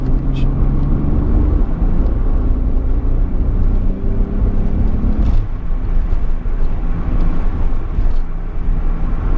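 A 1991 Nissan Fairlady Twin Turbo being driven rumbles from inside the cabin, a loud steady low engine and road drone with shifting tones and brief higher noises, occasional voices nearby.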